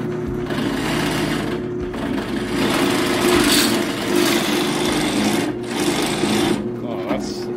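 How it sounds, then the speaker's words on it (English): A sawmill cuts through red oak with a loud, continuous mechanical whine and grinding drone that holds steady with slight surges, while voices can be heard talking over it. "while I was milling this red oak"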